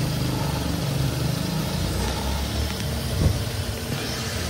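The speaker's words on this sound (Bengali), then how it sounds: "এসি রান করতে আছে, দেখেন গাড়িটার ইঞ্জিনটা কি স্মুথ ভাবেই আছে এখনো" A 2014 Toyota Allion idling after a key start with the air conditioning running, a smooth steady engine hum at close range with a brief louder swell near the end.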